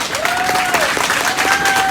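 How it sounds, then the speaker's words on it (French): A brief burst of audience clapping during a comedy stand-up show, dense and steady, with a faint tonal whine running through it. "Un maximum d'applaudissements pour William Pilet. Non. Tapez les mains!"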